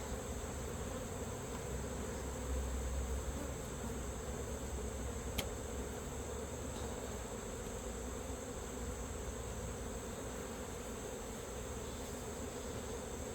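A dense, steady hum of honey bees buzzing around an open beehive during an inspection, constant and enveloping, with no voices.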